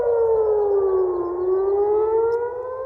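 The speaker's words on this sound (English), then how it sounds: "Air raid sirens ring out again across Jerusalem" Air raid sirens wail across Jerusalem, a single loud, sustained tone dipping slightly and rising again with no voices over it.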